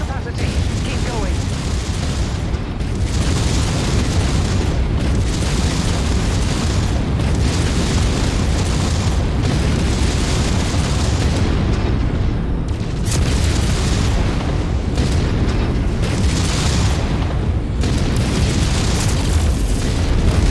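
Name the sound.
explosions from SRM missiles in a video game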